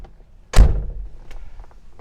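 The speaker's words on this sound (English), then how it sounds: "And the doors close with, you know, great sound" Door of a 1967 Oldsmobile Delta 88 closing, a single solid low thunk up close with a short ringing decay and faint rattles after.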